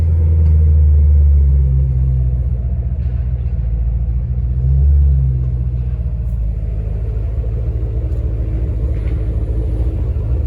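A Ford Mustang GT 3-valve engine with Ford Performance cams rumbles at a steady idle after first start-up, low and continuous, with a brief swell in revs before settling back to an even hum.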